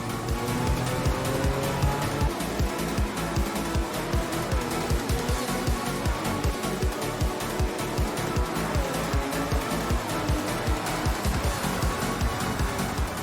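An engine-swapped VW Beetle racing in Gran Turismo 7 roars steadily at high revs, the loud engine note pulsing rhythmically with rapid shifts and brief tire squeal through a hairpin.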